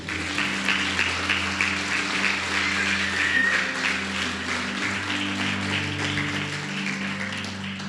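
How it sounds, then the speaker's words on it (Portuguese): A church congregation applauding during a sermon, sustained hand clapping at moderate level over a steady sustained instrumental pad and organ-like tones. "Você pode aplaudir a Jesus?"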